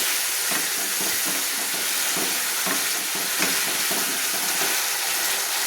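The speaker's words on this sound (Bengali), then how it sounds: "কেটে রাখা ফালি ফালি টমেটোগুলো দিয়ে আমি একটু হালকা করে নেড়ে নিচ্ছি" Sliced tomatoes are stirred gently in a frying pan, with a continuous close sizzle and soft, rhythmic scraping strokes throughout and no talking.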